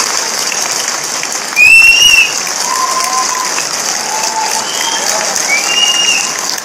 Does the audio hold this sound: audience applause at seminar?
yes